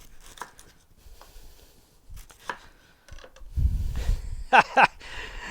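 A knife chops a purple onion on a cutting board for salsa, with a few scattered cuts and then a louder burst of firm, close thuds and scraping near the end.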